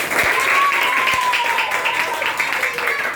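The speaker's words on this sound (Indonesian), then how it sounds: "Tepuk tangan untuk kita semua" Group clapping rings out steadily for a few seconds, with a raised voice or tone running over it.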